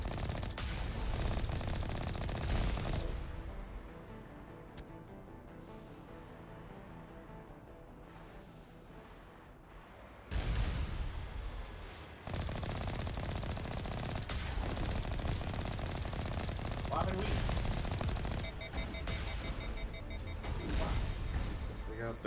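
Rapid automatic gunfire and explosive bursts in a World War II-style video game battle, loud and continuous with rockets and blasts mixed in, over game sound and occasional talk.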